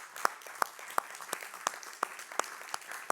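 A church congregation claps in answer to a call during a Spanish-language sermon, sharp claps landing about every third of a second in a steady rhythm, moderately near.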